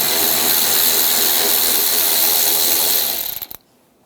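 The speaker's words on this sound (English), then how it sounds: "We're going to use an 8mm socket." A ratchet with an 8mm socket works a fender bracket bolt loose on a 2011-2018 Ram 1500, a loud steady clicking stream that stops abruptly near the end.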